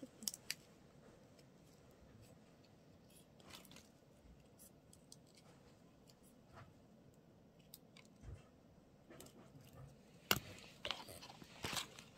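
Scissors cutting paper laminating film at a tabletop craft session, sparse quiet snips and rustles scattered over a low background, with a few sharper closer clips near the end.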